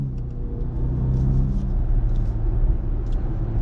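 Ferrari GTC4Lusso grand touring car engine, a steady low rumble as the car drives, continuous and fairly loud with slight variation in tone, no speech.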